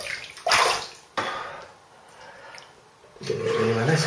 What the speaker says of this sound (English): just rinse off.